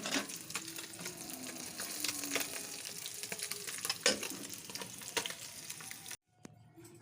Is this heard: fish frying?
yes